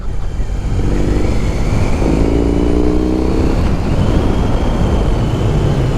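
A BMW R18 cruiser motorcycle's boxer engine rumbles steadily while riding, with a couple of short rising revs as gears change, loud and close over continuous road and wind noise.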